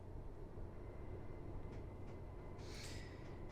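A train in the Train Drive ATS 2 game runs with a steady low rumble and a rail hum that stays constant throughout, plus a few faint clicks and a brief hiss near the end.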